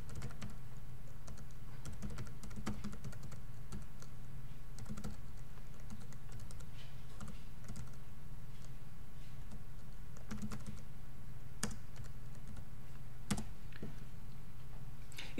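A web address is typed on a computer keyboard: steady, close, rapid key clicks with occasional sharper taps, running continuously with no speech.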